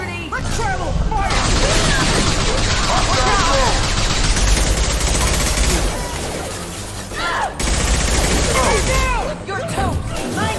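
Weapon fire in Mass Effect Legendary Edition combat, loud dense bursts of rapid shots that run continuously, with short pauses, under voices calling out during battle.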